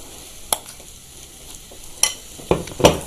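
Bean burger mixture made with besan and vital wheat flour sizzles softly in a pan over low heat, with a few sharp scraping stirs punctuating the quiet frying.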